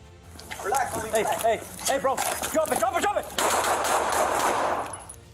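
A police officer fires six shots at a man on a street, sharp gunshots cracking in quick bursts, followed by a loud sustained rush of noise, all fairly close.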